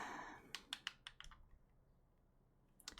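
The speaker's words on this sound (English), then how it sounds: "Oh, it's just me with my mouse and keyboard." Computer keyboard typing and mouse clicks at a desk, a quick run of about eight crisp, close keystrokes and clicks, then a pause before a few more taps, with no talking.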